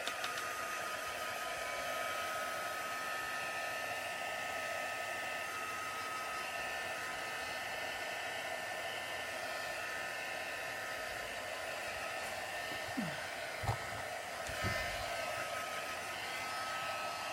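A hair dryer blows a constant, loud whooshing hum for the whole stretch while drying a mixed media craft piece, with a few faint handling bumps near the end.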